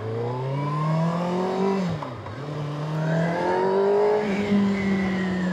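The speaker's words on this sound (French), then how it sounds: "L'échappement est incroyable." A 2025 Kawasaki Ninja ZX-6R sport motorcycle's high-revving engine roars loudly and steadily through its exhaust, its pitch climbing, dipping briefly, then rising again in sustained throttle blips.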